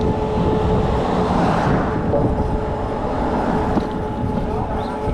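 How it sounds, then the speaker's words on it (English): Steady humming from new brake pads being bedded in while riding, a continuous drone with constant tonal lines running throughout, fairly loud against broadband road noise. "you can hear my brakes humming the whole fucking way"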